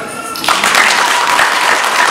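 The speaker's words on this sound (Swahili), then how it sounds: "makofi mengi kwake" Applause breaks out in a church gathering after a brief moment of quieter sound, a crowd clapping loudly and steadily for about two seconds.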